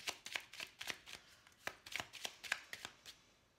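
Oracle cards being handled and drawn: a steady run of crisp, close card snaps and slaps, about a dozen sharp clicks in an even rhythm that slows and fades toward the end, with no one talking.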